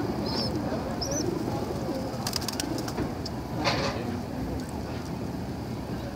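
Pigeons coo softly in the background over a steady low rumble, with faint chirps and occasional clatter drifting in.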